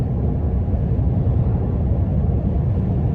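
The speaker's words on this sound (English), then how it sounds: "All you really get is road noise and wind from the truck." Steady low road rumble and wind noise fill the cabin of a Toyota Tundra pickup cruising at speed, a constant dull roar with no distinct exhaust note and no voices.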